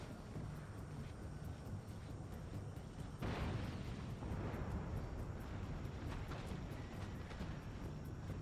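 Artillery fire and explosions from the Total War: Empire battle game, a continuous rumbling barrage with a louder burst of blasts about midway, followed by scattered booming shots.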